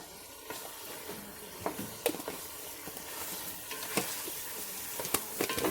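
Cumin, coriander powder and garam masala frying in a pot for achari aloo pulao, a soft steady sizzle with scattered stirring clicks and scrapes, moderately close, no voices.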